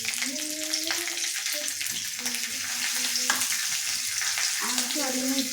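A pinch of cumin and some turmeric sizzle steadily in a hot pan, a close continuous frying crackle with faint stirring and brief background voices or music tones.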